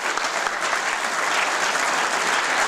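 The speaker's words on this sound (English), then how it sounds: "Have a round of applause for all the speakers we have." An audience applauds loudly and evenly, a thick wash of many hands clapping that holds without a break.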